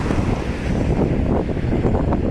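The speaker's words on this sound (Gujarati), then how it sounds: "જોવો તો ખરે કેટલું બધું પાણી જાય છે" Floodwater of the swollen Shetruji river rushes past in a steady, dense roar, with wind buffeting the microphone throughout and no voices.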